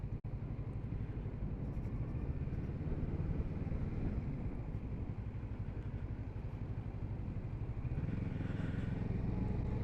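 Kawasaki Z650RS motorcycle riding on after hard braking, steady engine drone and wind rumble with a rising pitch toward the end.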